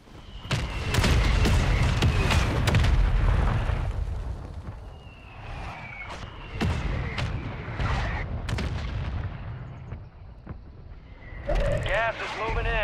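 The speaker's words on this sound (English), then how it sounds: "Mortar support incoming. Copy that. Mortar strike." Mortar strike explosions in a battle royale video game, several loud booming impacts and blasts with gunfire-like cracks, interspersed with game voice callouts.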